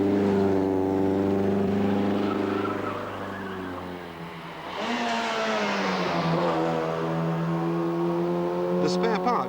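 Two classic rally cars, an old Saab V4 and a six-cylinder Wolseley, labour up a steep hill climb, engines droning steadily with a dip and a renewed rising strain midway, loud and close, with a voice talking over them.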